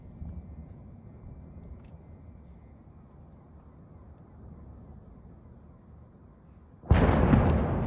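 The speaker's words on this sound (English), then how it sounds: "So our first clip here is of loud explosions near Kyiv." Explosions near Kyiv in war footage: after a long stretch of low rumbling background, one loud, sudden blast bursts in near the end and keeps roaring to the close.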